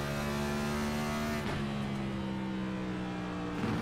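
A Next Gen NASCAR race car engine in a sim racing game at New Hampshire drones loudly and steadily, its pitch shifting as it comes off throttle on the overrun, with no voices.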